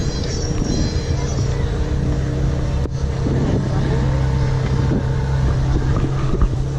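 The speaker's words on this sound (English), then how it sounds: "F430, one of my favorite Ferraris right there." A Ferrari F430 drives past at a car meet, its engine note rising over steady wind and road noise, loud and near.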